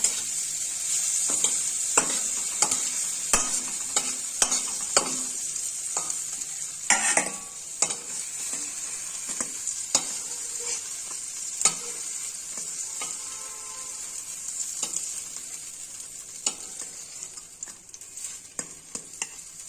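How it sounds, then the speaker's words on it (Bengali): Eggplant slices frying in oil, a continuous bright sizzle up close with scattered sharp ticks and occasional scraping as the pieces are turned. "আমার বেগুন ভাজাটা হয়ে গেছে, এবার বেগুন ভাজাটা তুলে নিব"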